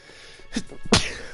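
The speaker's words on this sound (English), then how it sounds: "Gonna sneeze now." A single sharp sneeze from a person, preceded by a quick inhaled build-up and ending in a loud close burst.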